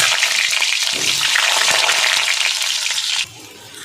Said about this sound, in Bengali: হলুদ আর লবণ দিয়ে আলুগুলো ভেজে নেব।